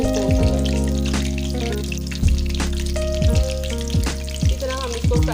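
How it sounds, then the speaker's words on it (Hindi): Potato pakoras deep-frying in hot oil, a loud continuous bubbling sizzle close up, with a low hum underneath and a few clinks of a utensil at intervals, no talk. "इस तरह हम इसको फ्राई करके निकाल लेंगे और बाकी सारे भी आलू के पकोड़े बना लेंगे"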